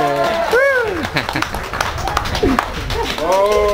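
Wedding guests in Cruces de Tula, Tamaulipas clap for the couple's kiss, a busy patter of applause mixed with shouting and chattering voices close by.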